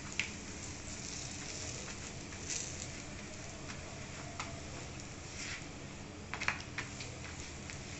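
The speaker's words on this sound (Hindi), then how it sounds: "अब मैं पापड़ को फ्राई करूंगी" Papad fries in oil on a tawa with a soft, constant sizzle and scattered small crackles and pops, low in level and steady throughout.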